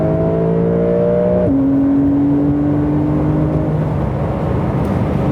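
Porsche 911 of the 992 generation with its flat-six engine, heard from inside the cabin: a steady, loud engine drone whose pitch drops as a gear changes, then holds at a lower note, with no talking.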